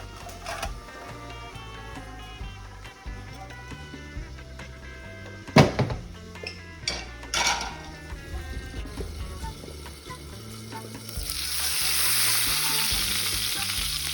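A burger patty fries in a pan with a quiet steady sizzle, broken by a few spatula scrapes and knocks midway, then a louder hiss that swells near the end.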